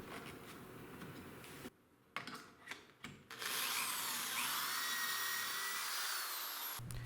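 A power drill whirs into wood, drilling dowel holes, in short bursts, pauses briefly, then runs steadily at high pitch for several seconds, close and loud.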